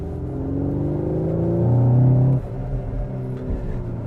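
A Cupra Formentor engine in Cupra drive mode revs up close by, swelling to a loud droning peak and then dropping back to a rumbling burble with small throttle blips.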